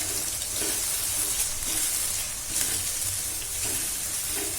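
Chili spice paste for sate padang sizzles in a nonstick pan while being stirred, a soft, even hiss running throughout with faint scraping pulses.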